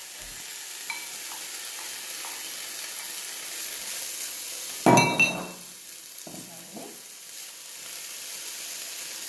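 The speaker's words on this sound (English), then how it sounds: "So now I can add to it the black rice." Black rice tipped into a pan of sizzling onion and garlic: a soft sizzle, then a loud rattling pour of grains that spikes, hisses and fades, followed by light stirring scrapes and clinks.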